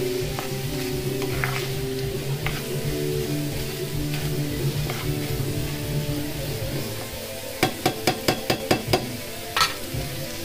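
Salsiccia sausage fries slowly in a pan with a steady low sizzle, a series of sharp clicks of a utensil against the pan near the end.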